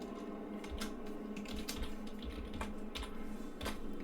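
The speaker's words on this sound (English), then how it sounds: "when I access my terminal here, I type Python" Fingers typing on a computer keyboard at a terminal, a close run of quick, irregular key clicks with brief pauses and no voices.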